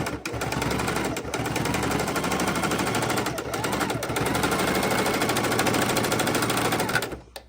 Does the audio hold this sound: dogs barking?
no